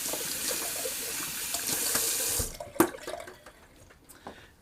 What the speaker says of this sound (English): since this flat top brush is synthetic, it does rinse out very easily